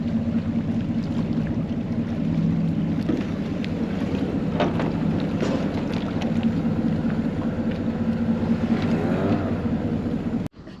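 A Mercury 15 hp outboard motor runs steadily at close range, a constant droning hum with wind buffeting the microphone, ending in an abrupt clunk near the finish.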